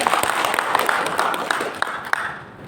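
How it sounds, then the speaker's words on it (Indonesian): Crowd applause at a morning community gathering, a dense patter of clapping with several sharp louder claps standing out, fading toward the end. "Tepuk tangan dulu untuk kita semua."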